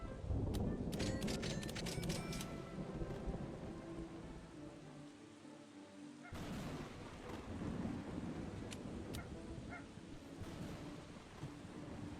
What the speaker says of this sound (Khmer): ឥឡូវភ្លៀងរន្ទះបាញ់ម្ដងហើយ